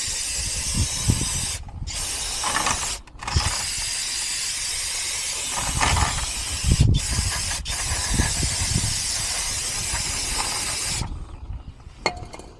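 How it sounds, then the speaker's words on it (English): Long hissing bursts of cleaner sprayed from an aerosol can onto the front brakes of a 2010 Jeep Patriot, broken by short pauses, with a faint clatter near the end. "I'm gonna spray a little more."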